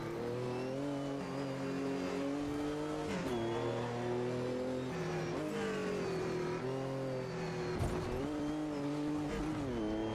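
An old Le Mans race car in the video game Automobilista 2, its engine droning steadily and loudly throughout, pitch rising and dipping through gear changes and throttle lifts, alone with no talk.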